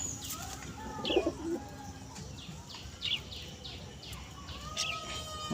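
Soft baby pigeon coos repeat over a hushed background, joined by scattered sharp chirps from smaller birds at intervals.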